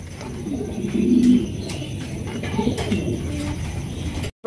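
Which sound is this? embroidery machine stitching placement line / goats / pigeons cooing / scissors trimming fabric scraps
pigeons cooing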